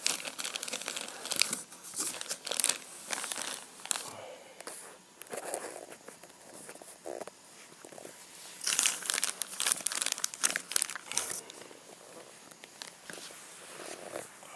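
Plastic packaging around a Kral Arms N-03 series spring air rifle with a synthetic stock crinkles and tears as it is unwrapped, close and fairly loud, in irregular bursts with handling noises between them.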